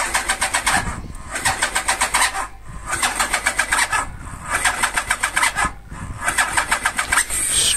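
A petrol engine with the choke on is cranked repeatedly by its starter, giving four loud, close bursts of rapid rhythmic churning separated by short pauses, with the engine struggling to catch.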